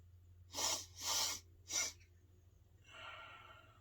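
Three sharp nasal sniffs of menthol snuff from a Pöschl Tabak MacCraig Royal, the second longest, taken close up and followed by a softer exhale over low background hum.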